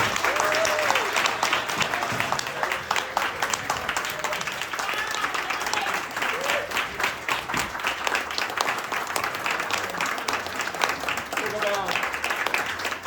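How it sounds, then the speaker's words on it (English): A crowd at a retirement celebration gives a long, sustained round of applause, dense steady clapping with cheers and voices calling out throughout. "I'd ask you to give one big last round of applause for our 2 retirees, Doug and Desiree."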